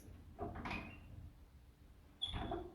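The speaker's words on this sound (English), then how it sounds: "But that was the door handle, the actual handle, if you turn it." A door handle being turned in an old hotel, giving two short creaking, rattling clicks about two seconds apart, quiet and nearby with a faint hum between them.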